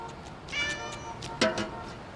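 A cartoon alley cat gives two drawn-out, fairly quiet meows, the second sharper and louder than the first.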